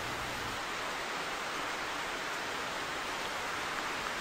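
Rain falling outdoors during an air rifle shooting session, a steady broadband hiss of drops held at an even, moderate level with no voices.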